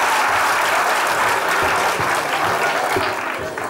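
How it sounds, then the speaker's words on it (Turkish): An audience applauds loudly and steadily at a children's magic show on a Turkish comedy stage after a vanishing-water trick, a dense continuous clapping that fades slightly at the end. "Alkışlar hanımefendiye geliyor."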